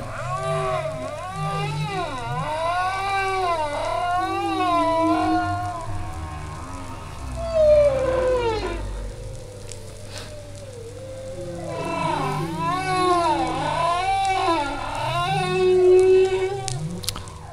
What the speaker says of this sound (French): On retrouve cette structure du chant de baleine à bosse.